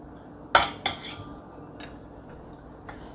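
Metal clanks sharply a few times as food is put into a cooking pot, followed by softer clinks and quiet.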